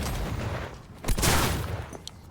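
Grenades explode in the video game Cyberpunk 2077: a heavy, booming blast lands mid-clip amid rumbling, gunfire-like noise, then fades off.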